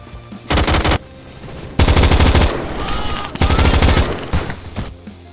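Bursts of rapid automatic gunfire in a Roblox shootout come in three loud, sustained volleys, each around a second long, with brief quieter gaps between them.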